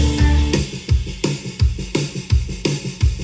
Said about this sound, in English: So why don't we start off with the good part, the drums.